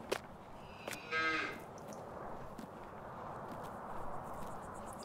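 Cows in Farming Simulator 19 let out a single clear moo early on, followed by a low, steady barn ambience with faint thumps and shuffling, no talking.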